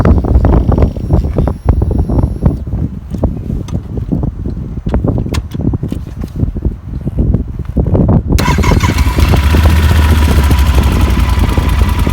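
A 2019 Yamaha Super Tenere ES motorcycle is started and settles into a loud, steady idle, with wind buffeting beforehand.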